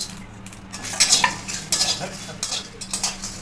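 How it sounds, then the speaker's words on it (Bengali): Whole spices (black and green cardamom, cinnamon, mace, star anise, cloves, cumin and coriander) dry-roasting in a pan for biryani masala, with repeated close scraping and clinking of a spatula against metal over a faint sizzle. "বড় এলাচ ছোটো এলাচ দারচিনি জৈত্রী চারফুট লবঙ্গ সাই জিরা সাই ধনিয়া এবার এগুলোকে আমি ভেজে নেব"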